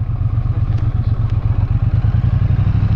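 Motorcycles ride along a road in California, their engines making a steady, close, rumbling drone with a rapid low pulsing rhythm, accompanied by wind noise.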